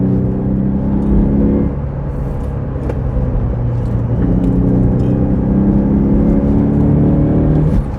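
A Citroën C4 warm hatch engine revs and accelerates through gear changes, loud and close, with a steady rumble and rising tones that drop and climb again.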